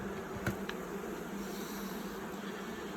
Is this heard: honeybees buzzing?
yes